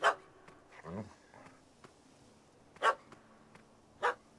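A small dog barks at someone up a tree: a few sharp, separate yaps spaced apart, close and clear over a quiet background.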